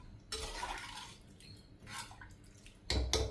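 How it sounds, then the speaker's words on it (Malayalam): Water poured from a vessel into a cooking pot for an Angamaly-style long bean tamarind curry, with splashing bursts that start, ease off and then return loudly near the end. "ഈ വെള്ളം ഒഴിച്ച് കൊടുക്കാം"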